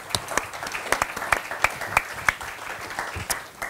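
Scattered, uneven clapping from an awards ceremony audience, a few distinct sharp claps standing out over a thin wash of hand claps, fairly close and short-lived.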